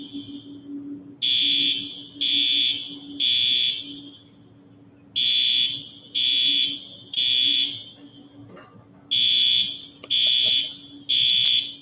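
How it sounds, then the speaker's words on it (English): An alarm goes off during a live stream, sounding in repeated loud electronic beeps grouped in bursts with short gaps, and no one talks over it. "Can you guys hear the alarm?"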